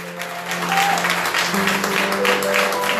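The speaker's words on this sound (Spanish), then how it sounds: "Denle un aplauso al Señor si es tan amable." A church congregation breaks into applause, a dense wash of many hands clapping steadily at close range, with a sustained tone and faint voices underneath.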